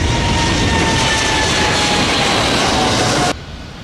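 A toy airplane's engine sound roars in a steady loud drone and cuts off abruptly near the end.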